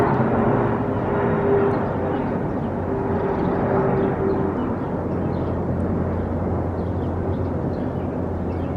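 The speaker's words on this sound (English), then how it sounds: "There's another stupid plane." A propeller plane passes overhead outdoors as a steady, broad low roar that holds for the whole stretch, mixed with wind rumble in a backyard.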